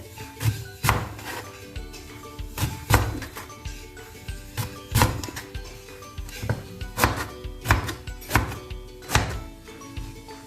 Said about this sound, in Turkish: Bunu da doğrayacağım ben şöyle şu şekilde